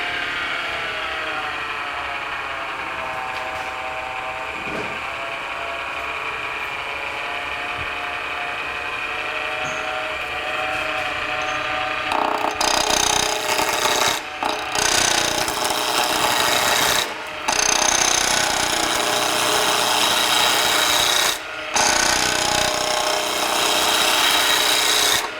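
Steel stock being turned down to round on a shop-made wood lathe, a steady whining hum for the first half, then louder grinding, rasping cuts broken by several short pauses.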